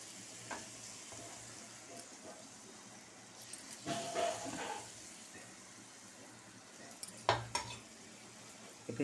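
Appam batter made from rice flour and wheat flour hits a hot pan, giving a faint, steady sizzle with a few soft clinks of utensils.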